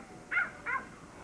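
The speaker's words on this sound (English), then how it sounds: "Doggy." A dog gives two short, sharp barks about a third of a second apart, moderately close and otherwise alone in a quiet outdoor setting.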